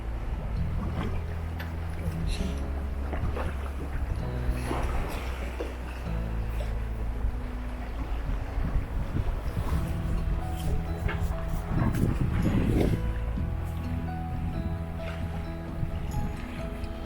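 A sailboat motors slowly out of a harbour at Visby on Gotland, its steady low engine drone running continuously with water and wind noise around it and occasional knocks and clatter on deck.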